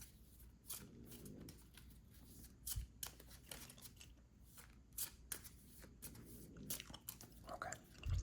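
Cards from a Tussie Mussie flower deck are shuffled close up in quiet, crisp riffles and slides, a run of soft papery snaps and flutters with brief pauses between bursts.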